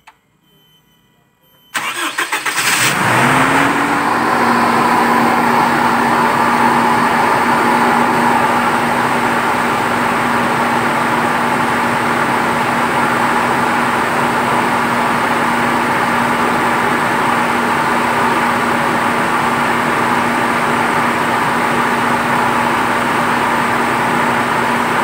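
A 2006 Toyota Innova engine cranks and catches after brief silence, then settles into a steady, loud, close idle with a constant hum that runs for over twenty seconds.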